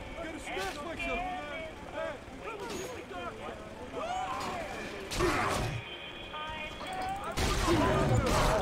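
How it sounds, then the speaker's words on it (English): Bursts of Bioshock 2 gunfire crackle and boom in several loud volleys, mixed with crashes, while a person talks over the action. "I need to not stand in the middle of the gunfire."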